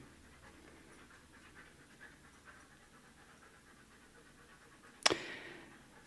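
Dog panting faintly and steadily for several seconds, soft rhythmic breaths at a little distance, then ended by a sudden sharp metallic clatter; no talking.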